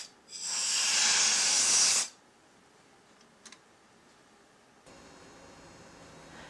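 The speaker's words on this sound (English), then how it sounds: "take your compressed air and blow out the inside of your floppy drive" Compressed air blasts into a floppy drive to clear out dust, making a loud, steady hiss for about two seconds before it cuts off, followed by a quiet stretch with one faint tick.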